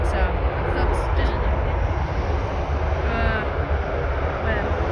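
WestJet airliner taking off at Vancouver International Airport, a loud, steady engine roar with deep low rumble filling the whole stretch, heard from nearby without letup.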